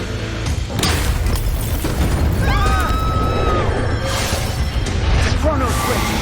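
Booming explosion in the video game Tower of Fantasy, a loud continuous rumble with bright tonal swoops and chimes layered over it, with voices talking throughout.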